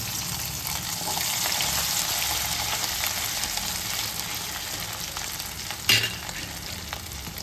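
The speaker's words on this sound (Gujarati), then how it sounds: "આપણું તેલ ગરમ થઈ ગયું છે, એમાં આપણે આદુ લસણ મરચીની પેસ્ટ નાખી દઈશું." Ginger, garlic and chili paste sizzles steadily in hot oil in a pan, a close, loud continuous frying hiss with one brief clatter of stirring near the end.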